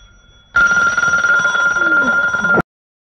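A telephone rings loudly for about two seconds, a steady electronic trill that cuts off abruptly into silence.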